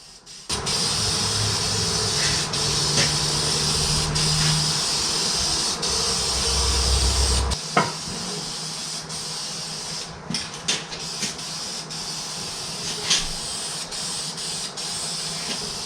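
Steady hiss of spray paint from a rattle can coating a Dago drop axle for a 1940 Ford Tudor, a long continuous burst that cuts off, followed by quieter clicks and handling noises.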